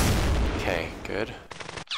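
Gunfire aimed at tanks in a wartime strategy game set on the Western Front, heard as a dense, loud crackle of shots that ends with sharp bursts near the close, with a voice over the early part.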